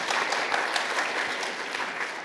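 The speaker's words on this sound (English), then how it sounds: "I'll rule that as thank you applause to Mr. Dar for his 9 years of service" Thank-you applause from attendees at a town meeting for a departing committee member, an even, moderately distant wash of clapping that holds steady and fades slightly at the end.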